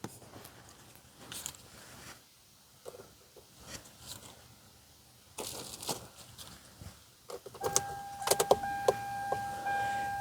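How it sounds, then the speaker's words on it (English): A car AC blower motor that was not working gets smacked: scattered dull knocks and thumps, then the motor whirs into a thin steady whine near the end with some clicks. "turn the blower motor on, and we're going to smack it."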